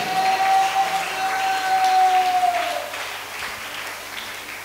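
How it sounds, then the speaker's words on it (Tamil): A church congregation at a Tamil Christian service bursts into sustained hand clapping, a dense, steady wash of applause that holds for several seconds before thinning out, with a faint whistle-like tone running through the first half. "கை தட்டுங்க."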